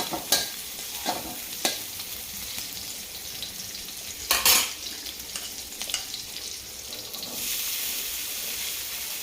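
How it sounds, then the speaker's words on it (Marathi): Green chillies frying in ghee for a fasting-style khichdi, with a continuous soft sizzle broken by several sharp clinks and scrapes of a stirring spoon, rising to a fuller hiss near the end. "तर आता आपल्या छान मिरच्याही परततात इथं"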